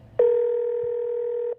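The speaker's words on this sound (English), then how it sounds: "One was only a repeated busy signal." A telephone line signal from a number that would not connect: one loud, steady electronic tone that starts abruptly, holds for over a second and cuts off, with nothing else behind it.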